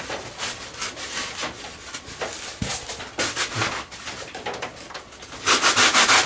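Rough 60-grit sandpaper rubbed over a model RC airliner fuselage, an Emirates 777-9X build, in quick repeated scratchy strokes, close and fairly loud, with no talk.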